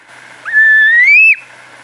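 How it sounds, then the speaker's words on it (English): A baby cassowary gives a single high, thin whistling call that rises slightly and ends in a brief upward flick, loud and close against a quiet background. "And this is the sound of the baby cassowary."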